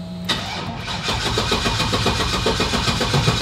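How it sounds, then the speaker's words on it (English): A turbocharged truck engine cranks and fires up after a push-button start, settling into a loud, close, steady rumbling idle with rhythmic pulsing throughout. "The last step to the turning on this truck is you press this button right here."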